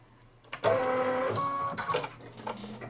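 An embroidery machine runs its automatic needle-threading cycle, a loud mechanical whirring and clicking burst that starts after a short pause and continues with a few uneven clunks toward the end, with no voices.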